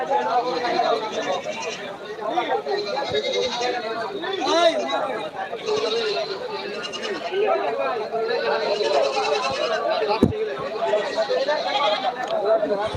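Goats bleat repeatedly amid a busy crowd of people chattering at the Kaitala livestock market, the animal cries rising now and then above the constant hubbub.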